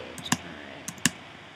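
Typing on a computer keyboard while working in Excel, with a few sharp, close clicks in two small clusters separated by a pause, over quiet room tone.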